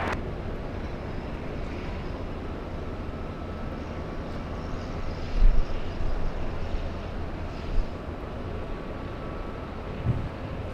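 A Boeing 747-8 passenger jet takes off at LAX in strong winds, its broad, steady engine roar sounding continuous and distant, with gusts buffeting the microphone and a few low thumps.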